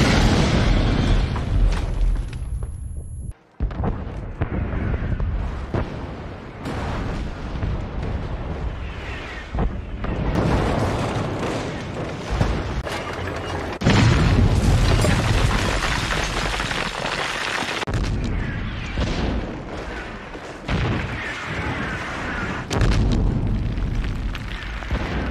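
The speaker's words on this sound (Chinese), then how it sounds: "接下来是一部芬兰战争电影的爆炸效果" Battle explosions from a Finnish war film boom again and again, deep heavy blasts with rumbling tails and sharp bursts, loud and dense across the whole stretch, with brief gaps between volleys.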